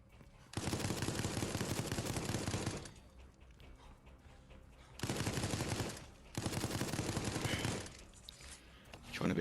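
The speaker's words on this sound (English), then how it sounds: "Doing a bit of damage there with my turret gun on the camera" A turret gun fires in the Resident Evil Resistance video game in three loud, sustained automatic bursts. Short gaps separate the bursts, and the second one is briefer than the others.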